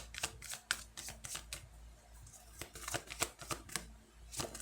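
Tarot cards being shuffled, a quick series of crisp riffling bursts and soft slaps, close and fairly quiet.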